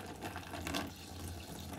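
Distilled white vinegar poured into a container over rusty vintage Fender Jazzmaster hardware parts, a soft close trickling and splashing of liquid lasting under two seconds.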